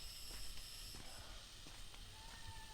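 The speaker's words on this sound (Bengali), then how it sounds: "একটা পোকার শব্দ আসলে শোনা যাচ্ছে" Insects in the forest of Khadimnagar National Park near Sylhet: a continuous high, thin buzzing hiss with faint tonal chirps layered in, steady and quiet throughout, no talking.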